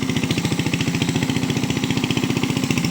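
A farm machine engine running in a rural province setting chugs steadily at a fast, even rhythm, loud and close throughout, with no voices.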